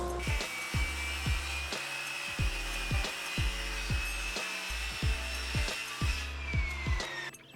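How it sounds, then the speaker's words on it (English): A circular saw cuts angles through three clamped wooden pieces, its steady high motor whine running continuously while a repeated rhythmic scraping and rubbing pulses underneath, loud and close, before the motor winds down at the end. "Then I clamped all 3 pieces together and cut the angles with my circular saw."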